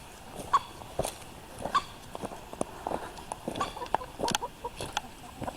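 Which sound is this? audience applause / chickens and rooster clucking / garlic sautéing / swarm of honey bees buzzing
chickens and rooster clucking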